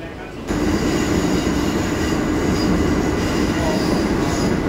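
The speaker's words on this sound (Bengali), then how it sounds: "এই হচ্ছে Dumdum cantonment metro station, platform হচ্ছে বাম দিকে।" A metro train at Dum Dum Cantonment metro station, a loud steady rumble of rolling carriages with wheel noise that starts abruptly and continues close by, without talk.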